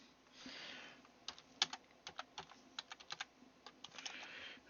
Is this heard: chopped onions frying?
no